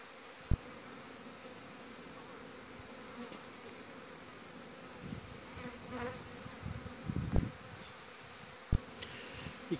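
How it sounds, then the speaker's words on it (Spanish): Honeybees buzz steadily in a soft, dense drone close by at their hives while being fed protein cake, with occasional light knocks and rustles. "ya las abejas ya la están tomando"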